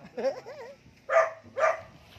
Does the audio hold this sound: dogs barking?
yes